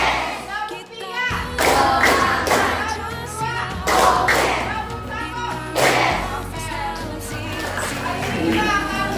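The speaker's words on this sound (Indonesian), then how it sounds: "Tepuk 3" A classroom of children clapping together in a rhythmic pattern, several loud sharp claps in sequence with brief gaps between bursts, a teacher's voice briefly in between.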